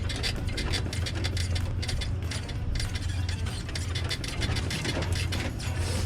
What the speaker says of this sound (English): It sounds like my pistons are grinding or something.